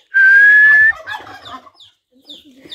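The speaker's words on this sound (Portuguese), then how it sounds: "E as peruas tá gritando pra botar" Turkey hens calling on a rural farm plot, one loud high whistling call followed by a few shorter, fainter calls, close by and without talk.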